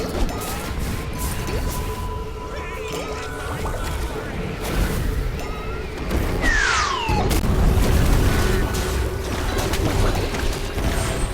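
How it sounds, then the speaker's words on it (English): An artillery strike lands in a Smite-style battle game, with a descending whistle followed by heavy booms and crashing impacts over a busy background of game effects. "the artillery strike"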